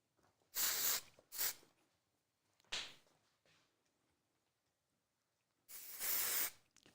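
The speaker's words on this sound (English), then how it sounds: "Now a little texture spray." Texture spray is misted onto hair during a bob haircut, heard as several short aerosol hissing bursts, two quick ones, a single puff, then a longer spray after a pause, fairly close and with no talking.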